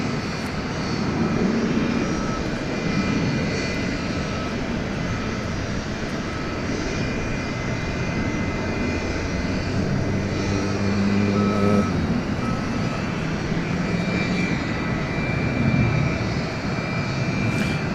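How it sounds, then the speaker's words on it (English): A 29-year-old jet airplane at DFW Airport gives off a steady, loud engine roar that holds for the whole stretch, with faint intermittent beeping in the background and no talking. "this is a 29-year-old plane celebrating 29 years of service as of this month"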